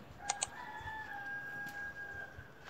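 A rooster crows in a long, drawn-out call after a couple of short clucks, fairly faint against quiet background noise.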